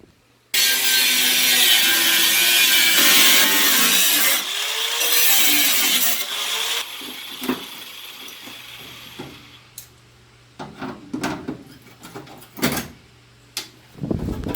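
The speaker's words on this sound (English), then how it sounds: "now I'm going to go ahead and start cutting" A power cutting tool slices through a car's rear fender to make room for fender flares, a loud continuous grinding whine for several seconds that stops and gives way to scattered clanks and knocks of handling the bodywork.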